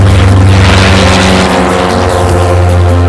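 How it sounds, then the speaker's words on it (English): A home-built Starduster open cockpit biplane takes off during an air race, its engine giving a loud, sustained, close droning roar with a steady tone. "These are home-built aircraft, the fastest open cockpit biplanes in the race."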